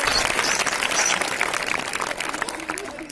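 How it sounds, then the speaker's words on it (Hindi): Loud, sustained applause from a large audience at a special-guest welcome and prize-giving ceremony at an inter college, dense clapping filling the whole stretch and easing slightly toward the end. "एक बार जोरदार तालियों के साथ में स्वागत पर हमारे मध्य में आज हमारे विशिष्ट अतिथि पधार चुके हैं।"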